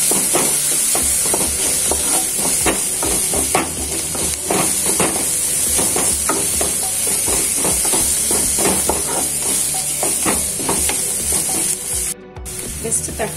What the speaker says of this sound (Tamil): இஞ்சி பூண்டு பேஸ்ட் போட்டுட்டு நல்லா வதக்கிட்டு